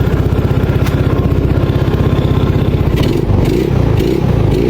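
A Yamaha Mio Soulty scooter with a charging fault runs at a steady idle up close, its rapid even putter shifting slightly partway through, with light clatter over it.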